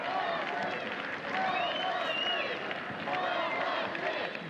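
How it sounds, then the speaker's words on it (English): Stadium crowd at a U19 European Championship football match between Ukraine and Italy, applauding a player being substituted off: a steady distant wash of clapping and crowd noise beneath a commentator speaking throughout. "Applause for Daniel Vastenko."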